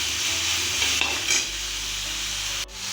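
Two medium carrots stir-fried in a pan for egg vegetable noodles, a steady close sizzle with a couple of scraping stirs and a brief drop in sound near the end.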